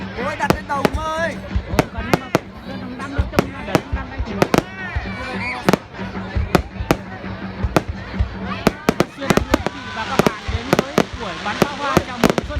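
Outdoor Lunar New Year 2024 fireworks show in Quế Võ town, Vietnam, with repeated loud booming bursts and crackles at irregular intervals, mixed with crowd chatter and voices nearby.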